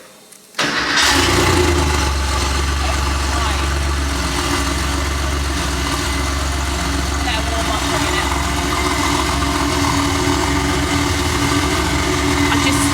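A Porsche 911 Turbo engine cranks and catches after a brief quiet moment, then settles into a steady, loud idle with a low rumble that holds throughout, a voice speaking briefly over it.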